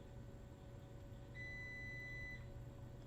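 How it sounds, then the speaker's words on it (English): A single thin electronic beep holds for about a second against a quiet hum of room noise, faint and steady, with no talking. "let me let this beep again"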